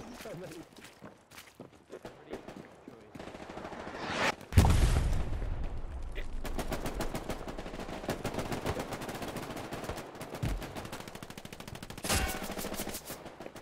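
Rapid automatic gunfire in a shooter video game, with bursts of rattling shots and a heavy impact near the middle, continuing over steady background game noise as a player talks.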